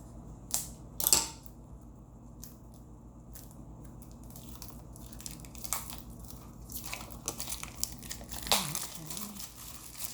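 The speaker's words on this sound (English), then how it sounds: "so let's open up the cards" A tarot card deck being unwrapped, with close crinkling of plastic film and scattered sharp crackles and rustles, quiet and intermittent.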